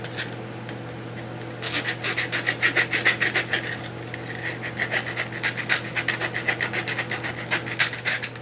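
A rasp file scrapes the rough edges of a vinyl knife sheath in quick, rhythmic back-and-forth strokes, close and fairly loud, continuing steadily over a low steady hum with no talking.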